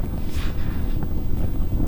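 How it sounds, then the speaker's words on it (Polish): Wind blowing up from below at the Chimera fire vents in Turkey rumbles steadily against the microphone, a short burst of low, rough blowing noise with no talking. "To jeszcze gorzej teraz zaczął wiatr z dołu."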